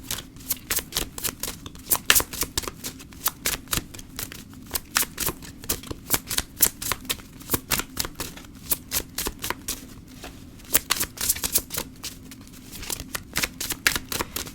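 Tarot cards are shuffled by hand in rapid bursts of crisp riffling clicks, near and fairly loud, coming in quick irregular flurries with brief pauses.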